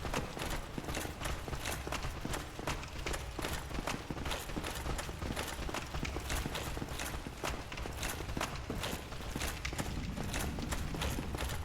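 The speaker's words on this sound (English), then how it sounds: "Still hearing footsteps." Rapid, steady footsteps of approaching players in Dark Souls: Remastered, a dense clattering patter that continues unbroken and loud throughout.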